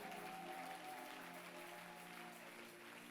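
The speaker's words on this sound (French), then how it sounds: "Applaudis très fort et sois béni." Congregation applause at a Sunday church service, a quiet, continuous patter of many hands clapping with a faint sustained tone running beneath it and no talk over the top.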